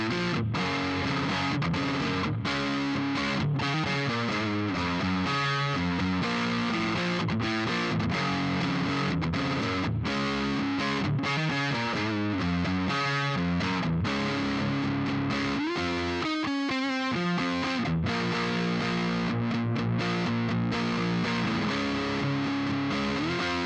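A Gretsch Electromatic G5420T electric guitar played through a high-gain Juggernaut amp setting with a touch of spring reverb, giving loud, saturated distorted chords and riffs throughout, with a brief drop-out near the end, no talking.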